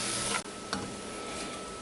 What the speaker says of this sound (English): I can hear the onions sizzling